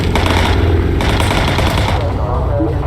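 Machine gun fire from a bomber aircraft in the Bomber Crew video game, loaded with armor-piercing ammo, rattles loud and dense through nearly three seconds over a steady engine drone.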